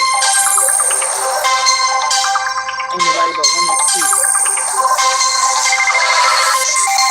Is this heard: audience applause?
no